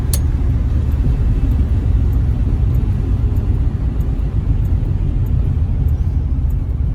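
A 1965 AMC Rambler Marlin with a 327 V8 driving on a road, a steady loud engine drone and rumble with road noise throughout, no voices.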